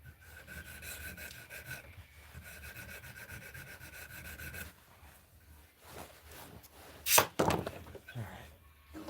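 Sanding a spine, with steady rhythmic rubbing strokes of moderate level close by, a brief louder scraping burst near the end, and faint talk in the background.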